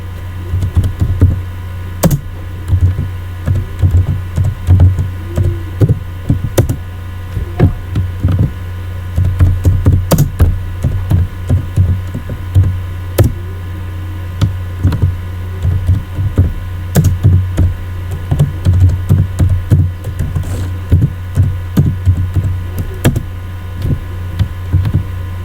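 Typing on a computer keyboard produces close, crisp clicks in irregular bursts and short runs, with brief pauses, over a steady low electrical hum.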